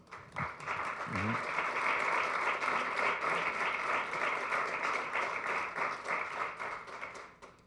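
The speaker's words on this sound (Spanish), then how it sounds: "Denle un aplauso al Señor." A church congregation applauds steadily for several seconds during a sermon, a dense wash of clapping that swells and then tapers off.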